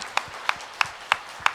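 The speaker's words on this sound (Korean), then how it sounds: "새해 첫날 예배 자리 있게 하신 하나님께 영광의 박수 올려드리겠습니다" A church congregation at a New Year's Day Sunday worship service claps in unison, five sharp, evenly spaced claps in a quick steady beat, close and without talk.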